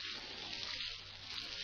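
A steady hiss of running water pours over the hands and arms up to the elbows during wudu ablution, a constant close wash like a tap flowing without pause.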